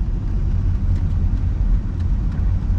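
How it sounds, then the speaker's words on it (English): A C8 Corvette under full-throttle acceleration, heard as a dense, steady, loud low rumble with a broad roar, continuous throughout and with no voices. "Now we're going to start getting on the throttle and full throttle out through here."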